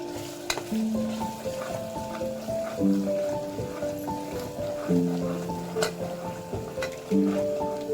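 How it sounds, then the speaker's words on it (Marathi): Spices for Malvani-style misal sautéing and sizzling steadily in a hot pan, stirred now and then with faint clinks of the spoon, a continuous close frying hiss throughout. "त्यानंतर हे सगळे मसाले टाकून घेऊया आपण। चांगलं परतून घेऊया हे।"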